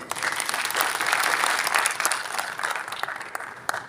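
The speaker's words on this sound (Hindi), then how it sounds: "इनके लिए मैं जोरदार तालियां चाहूंगा" Audience applause at a delegates' session of an employees' association: a dense crowd clapping that swells and holds steadily, fairly loud and close, then thins slightly toward the end, with no talking.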